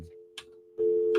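A telephone busy signal sounds as a steady, close tone that cuts in and out, with faint clicks and line noise between the beeps.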